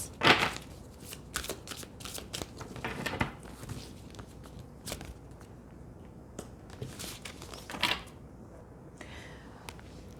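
Cards of an oracle deck being shuffled by hand, a run of crisp riffling and slapping bursts at close range, loud at the start and again near the end, with no talk over them.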